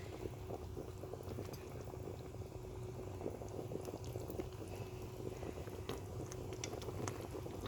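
Stuffed cabbage rolls simmer in a covered pot, a soft, continuous bubbling and gentle gurgle at low volume with no talk over it.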